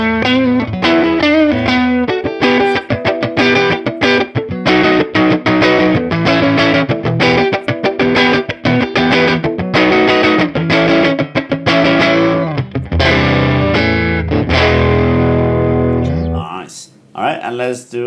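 An electric guitar played through a slightly driven amp plugin with an EP3 boost, a dense crunchy strummed and picked passage that runs loud and continuous before cutting off near the end, with no one speaking.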